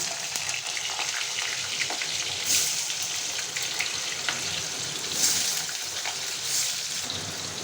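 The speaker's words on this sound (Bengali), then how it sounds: "জিরে সম্বার দিয়ে আলুটা ভালো করে ভেজে নেবেন।" Potatoes fry in oil with a cumin seed tempering for a bhaja ghonto made with prawns. A continuous close sizzle carries scattered crackles and pops, with no one talking.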